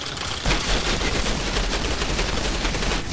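A gun fires in Outriders as a rapid, continuous burst of shots, dense and loud, rolling on without a break after a brief lead-in.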